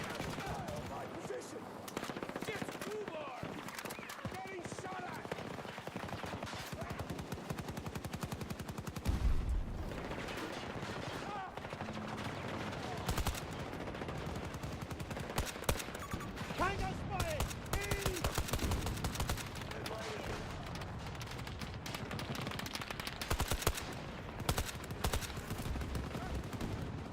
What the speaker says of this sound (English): My position! It's Ubar! Getting shot at!